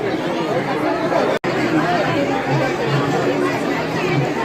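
Dense, continuous chatter rises from a packed Sunday queue at the Yedeshwari Devi temple in Yermala, many voices mingling nearby, broken once by a split-second dropout.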